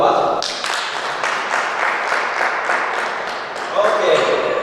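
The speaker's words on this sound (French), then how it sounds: "Est-ce qu'on peut applaudir pour papa?" Applause at a conference breaks out for a father, dense broadband clapping that swells briefly near the end, with a voice speaking over it.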